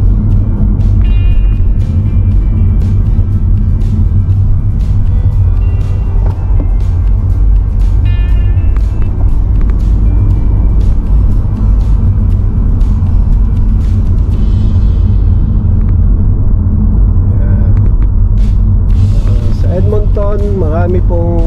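A car drives along roads in Edmonton, Canada, with a loud, steady low engine and road rumble running throughout from close inside the cabin, topped by brief clicks and light rattles, and faint tonal beeps near the end.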